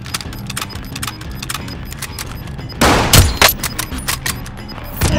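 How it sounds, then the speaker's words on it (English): Gunfire crackles in the video game Call of Duty: Modern Warfare as rapid rattling shots repeat steadily, then swell into a louder, heavier burst of fire partway through. No talk is heard. "Taking effective fire!"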